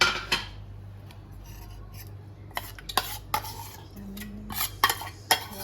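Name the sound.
mixing Yongchak chutney with onion, tomato, chilies, garlic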